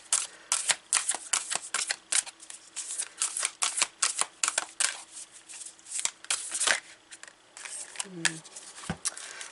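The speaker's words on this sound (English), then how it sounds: "I'll give them a good shuffle here," Tarot cards shuffled by hand in a run of rapid crisp riffles and flutters, close and fairly loud, with brief pauses between bursts.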